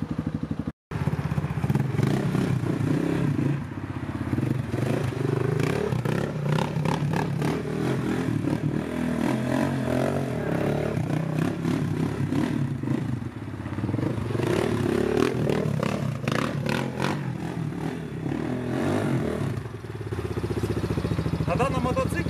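A Motoland XT 250 HS motorcycle engine runs at close range, idling unevenly then revving in several throttle blips, with mechanical clatter throughout and a brief drop at the start.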